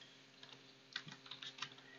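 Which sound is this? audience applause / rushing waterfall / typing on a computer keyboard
typing on a computer keyboard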